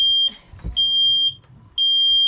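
A smoke detector aboard a sailboat crossing the Atlantic beeps in three loud, sustained high-pitched tones, with low rumbling and knocking between them.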